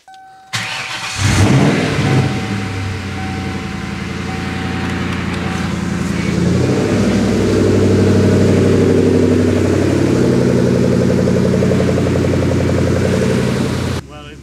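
A Ford Mustang SN95 Cobra with its muffler deleted cranks and fires up, then settles into a loud, steady, rumbling idle close by that runs to the end, with no talk over it.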